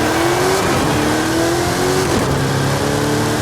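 Drag car launching in Forza Horizon 5: a loud, close engine roaring and revving with shifting pitch through quick gear changes, plus a hint of tire squeal, no talk over it.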